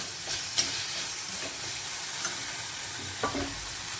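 Vegetables with peas sizzle in a little oil in an iron wok, a soft steady frying hiss with a few scraping stirs of a spatula, fairly quiet and close.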